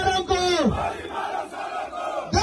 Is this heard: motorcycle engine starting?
no